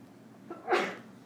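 A person gives a single quiet sneeze, with a short intake of breath and then a brief burst, in a calm indoor space.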